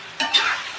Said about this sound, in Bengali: একটু লাড়া দিয়ে দেবো।